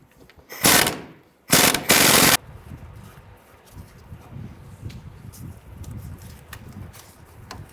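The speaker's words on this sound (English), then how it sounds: "go ahead and remove the nut and washer off the top" Work on the front lower control arm of a 1994-2004 Ford Mustang: two loud, harsh mechanical bursts about a second each loosen the nut and washer, followed by quiet rustling and handling noises.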